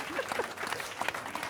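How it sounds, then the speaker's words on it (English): Applause from a business workshop audience honoring a panel of experts on nature-based solutions, a short, dense patter of many hands that stays steady and fairly soft throughout. "So a round of applause for our experts."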